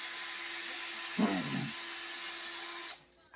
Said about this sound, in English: if you want to drill straight